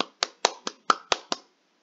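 Hands clap seven times in a quick, even rhythm, each a sharp close crack, then stop into silence.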